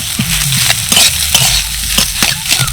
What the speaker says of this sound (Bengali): আলুটাকে আমি এইভাবে হাত দিয়ে ম্যাশ করে দেব